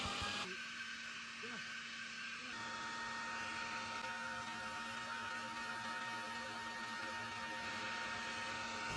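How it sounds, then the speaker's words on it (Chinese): A vacuum cleaner runs steadily the whole time, used outdoors near a vegetable garden to suck up hornets, with a continuous loud motor hum and airflow hiss. "给大家表演一个吸尘器装马蜂"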